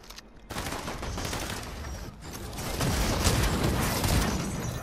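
Gunfire in the video game Fortnite, a dense run of rapid shots filling the whole stretch, loud and continuous with rising intensity toward the end and no talk over it.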